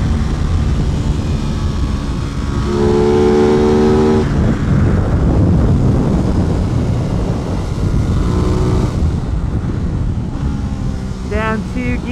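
Aprilia RS660 sport motorcycle ridden hard on a race track, its engine loud and close with rising harmonic whines through the gears and a brief shift dip, while a voice talks over the ride.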